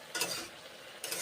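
Garlic frying in a pan for an okra curry, a soft steady sizzle with two brief scraping stirs at the start and end, close and quiet, with no talk.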